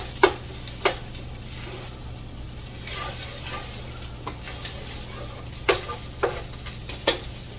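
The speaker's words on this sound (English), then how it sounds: "cook the tomato paste a little bit" Tomato paste cooks in a pan for sloppy joes, giving a soft, low sizzle with a few sharp scraping taps of a spoon stirring it, close and fairly quiet, with no voices.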